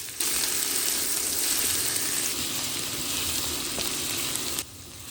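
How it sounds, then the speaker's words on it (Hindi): Onion sizzling as it drops into hot oil for a Goan fish ambot tik curry, a loud, steady frying hiss that runs on continuously before cutting off abruptly near the end. "तेल गर्म हो गया, अब डालते हैं प्याज"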